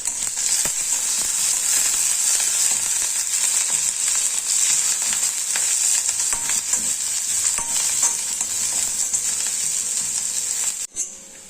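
Shallots, green chillies, dried red chillies and curry leaves fry in hot oil for a Kerala mackerel curry, giving a steady close sizzle and crackle that runs unbroken almost to the end, with no talk.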